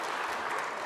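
Brief burst of warm applause from a snooker audience at a professional final, a dense, even clapping wash close by, heard alone without voices.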